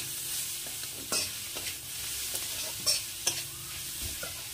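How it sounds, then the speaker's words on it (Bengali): Spice masala with chili powder being stirred and fried for a spicy chicken dish, a steady sizzle in the pan with several sharp scrapes of the spoon spaced through it, close and fairly quiet, no talking. "এই সব কিছু দিয়ে ভালো করে মশলাটাকে কষিয়ে নেব।"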